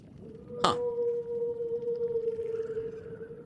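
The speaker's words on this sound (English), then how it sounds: "The sound of a distant whale." A distant whale call sounds in a horror video game, a long sustained low tone that holds steady for several seconds after a brief sharp burst, faint and echoing with no talk.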